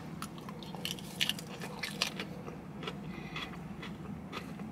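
Crisp bites and steady crunchy chewing of a Saladworks salad, close and fairly quiet, with a couple of sharper crunches standing out and no talking.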